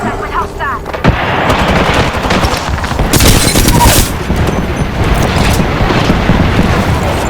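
Rapid automatic gunfire in the battle royale game Apex Legends, with loud bursts and impacts close up. Players talk over the shooting.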